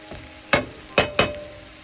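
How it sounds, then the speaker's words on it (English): Half an onion and small carrots sizzle in a pan over high heat. Three sharp bursts of sizzle from stirring rise over a low, steady frying hiss. "Fry a little bit the onions, actually half an onion"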